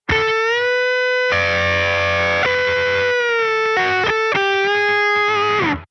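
Distorted electric guitar plays a country-style bend, with the ring finger pushing one string up while the pinky holds another note, giving sustained, effected tones that rise and swell, then break into short repeated bent notes before fading.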